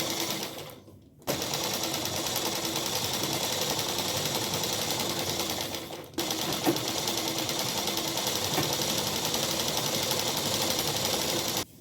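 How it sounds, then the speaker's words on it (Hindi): A sewing machine runs a long, steady, loud stitching whir along a salwar seam, pausing briefly once before carrying on at an even pace. "जब हम सिलाई लगाते हुए ऊपर की तरफ आएंगे"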